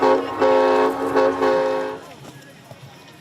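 Santa's holiday train sounds a loud, sustained horn for about two seconds, with brief pulses along the way, before it cuts off and leaves faint rumble and background noise.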